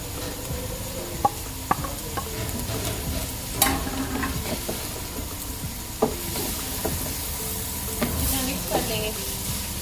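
Macaroni and spaghetti tossed with fried potatoes and carrots in a sizzling pan, a utensil stirring and scraping with scattered sharp taps against the metal over a steady frying hiss, close by.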